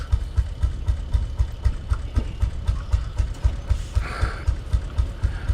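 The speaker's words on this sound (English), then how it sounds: "we won't stop the engine just yet" An old engine runs at a museum, idling with a steady rhythmic chuff and knock repeating roughly twice a second, loud and close, with a brief hiss of escaping air partway through.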